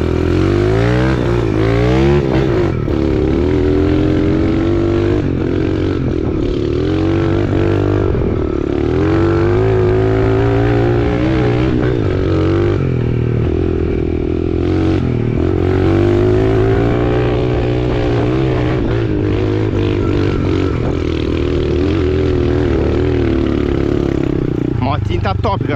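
Motorcycle engine revving loudly and continuously as it is ridden inside a cave, its pitch rising and falling throughout, with voices talking over the engine.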